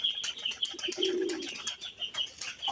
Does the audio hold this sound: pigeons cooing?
yes